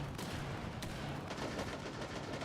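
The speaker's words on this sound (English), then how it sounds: "You hear the cacophony of explosions" Rainbow Six Siege match action: bursts of rapid gunfire and explosions crackle in quick succession, fairly faint and busy, with sharp impacts layered over a dense noisy background.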